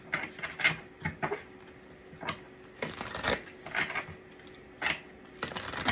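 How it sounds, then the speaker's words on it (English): Tarot cards shuffled by hand in a quiet room, giving repeated short riffling bursts and soft flicks in an irregular rhythm, close and fairly quiet, with no talking. "I'm just shuffling to see if I have anything come out"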